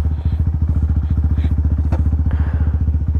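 Honda Grom motorcycle fitted with a 36-tooth rear sprocket and 14-tooth front, idling loud and close at the start of a ride: a steady, rapid thumping engine pulse with a few faint clatters over it.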